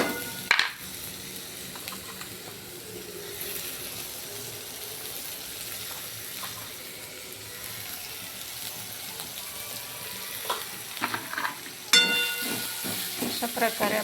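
Tomatoes softening with salt in a covered pan for dhaba-style fish curry, a low steady sizzle and simmer with a few clinks and clatters of the lid and utensils.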